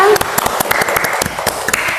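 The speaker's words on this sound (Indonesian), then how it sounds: "Tepuk tangan dulu untuk kita semua" Classroom applause at the end of a mathematics lesson, students clapping in quick uneven bursts of sharp individual claps, close and fairly loud.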